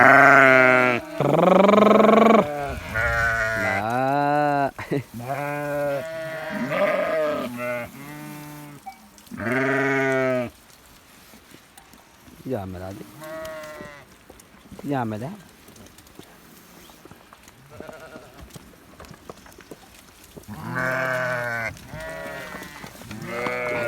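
Sheep and lambs bleat repeatedly at close range, loud and overlapping, with a person calling out briefly among them.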